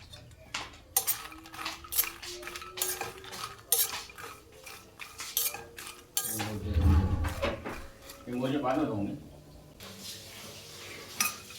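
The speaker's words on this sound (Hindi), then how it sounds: "मखाने को भी घी में भून लेंगे।" Makhana (fox nuts) roast in ghee in a pan while a metal spoon stirs them, giving a busy run of close clinks and scrapes against the pan with a few heavier knocks.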